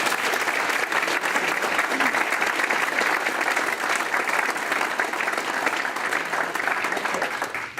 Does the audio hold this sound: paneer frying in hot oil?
no